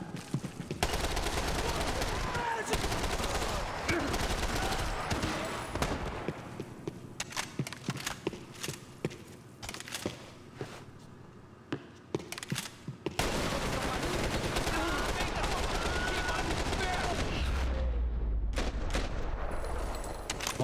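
Dense bursts of gunfire in the video game Max Payne 3, loud and close. Rapid automatic volleys and single heavy shots fill most of the stretch, with a short lull midway before the shooting resumes.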